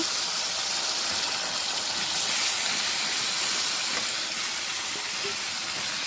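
Snakehead fish dropped into a pan of potatoes frying in oil brings a constant loud hiss and sizzle with little change in level, and no one talks.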